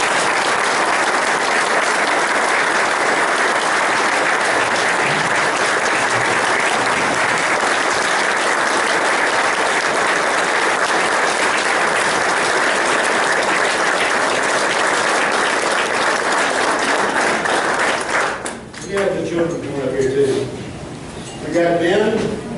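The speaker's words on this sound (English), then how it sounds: "Becky Ellen, let's give her a round of applause." A breakfast gathering of the Cobb County Republicans bursts into sustained applause, a thick, even wash of many hands lasting close to twenty seconds before fading as a voice begins talking.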